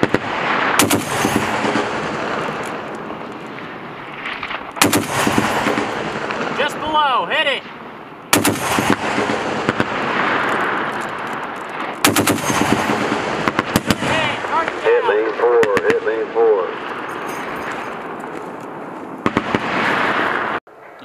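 An M2 Browning heavy machine gun fired by soldiers at targets on a range, in loud sustained bursts broken by brief pauses, with faint talk between bursts.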